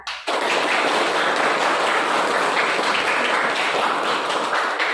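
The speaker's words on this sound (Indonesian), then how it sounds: "tepuk tangan." Children clapping in a classroom, a loud dense burst of applause that starts abruptly and carries on steadily to the end without any talk.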